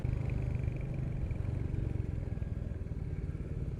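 A 2021 Royal Enfield Meteor 350 Fireball motorcycle engine runs with a steady, close, low thumping rumble that holds an even level throughout, with no voices.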